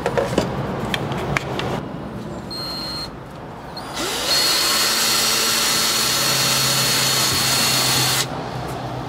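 A power drill whines steadily at close range for several seconds, drilling into a fish tank wall, preceded by some handling clatter and a brief quieter pause before the drilling starts.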